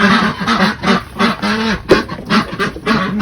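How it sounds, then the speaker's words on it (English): Penned quail give a run of repeated honking calls in uneven bursts over about three seconds, close and fairly loud. "So here are the quail."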